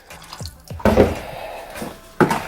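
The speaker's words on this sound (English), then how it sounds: "I'm going to add a half cup of rum into mine" Rum poured from a measuring cup into a bowl of vegan Jamaican Christmas fruit cake mix makes a splashing liquid pour that comes in two short bursts, close and fairly loud, with no talking.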